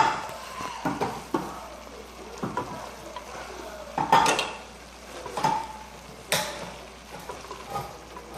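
Chili stirred in a pot, irregular spoon scrapes and metallic clinks against the pot over a faint simmer, several distinct strokes, close and without talk.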